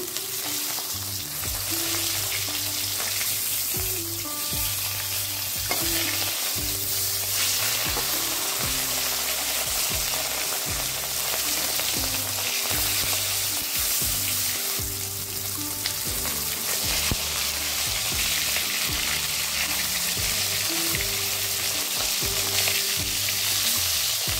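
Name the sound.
fish frying in oil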